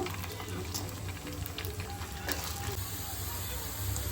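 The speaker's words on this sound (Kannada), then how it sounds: "ಚೆನ್ನಾಗಿ ಇದನ್ನ ಈ ಸ್ಮೆಲ್ ಹೋಗೋವರೆಗೂ ನಾವು ಫ್ರೈ ಮಾಡ್ಕೋಬೇಕು." Soaked, peeled field-bean lentils fry in an oiled pan, giving a steady, even sizzle that hisses on without pause at close range.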